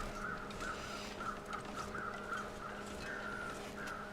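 Crows caw repeatedly at a moderate distance in the video game The Long Dark, a steady series of harsh calls over a low background hum.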